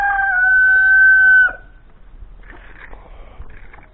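A rooster in a farmyard crows one long loud call, then softer clucking and scratching follows close by.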